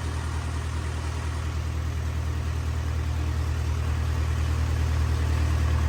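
A steady generator engine hum drones on without a break, low and constant, running nearby at a farm field with no voices.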